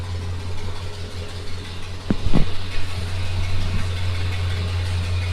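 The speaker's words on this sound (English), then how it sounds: "Got the new exhaust on, checking for leaks." A car engine with a newly fitted exhaust idles with a steady low drone and a brief rattle partway through, running on without talk.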